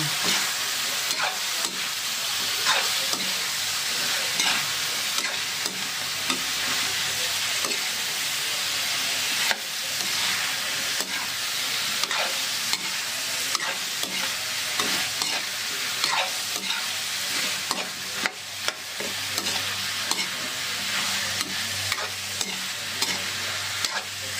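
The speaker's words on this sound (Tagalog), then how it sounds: "Haluin natin." Chopped sayote is stirred in a pot while cooking odong, with steady scraping and clattering strokes over a continuous loud sizzle, close and sustained without talk.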